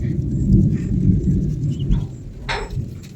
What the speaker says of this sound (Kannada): ನೋಡಿ ಕೇಳಿಸ್ತಾ ಇದೆಯಾ ಸೊ ಗುಡುಗು ಮಿಂಚಿದೆ ಮಳೆ ಇಲ್ಲ